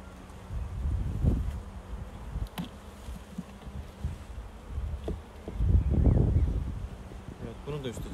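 Honeybees droning around an opened hive during an inspection, a steady close buzz with swells as individual bees pass near, under someone talking throughout and occasional rustling handling sounds.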